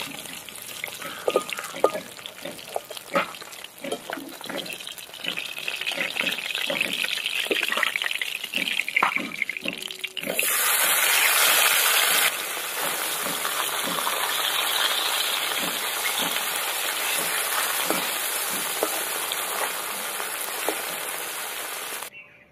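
Fish sizzling and spattering as it fries in hot mustard oil in a pan, a steady loud crackle with popping bursts that swells sharply partway through and carries on alone without talk.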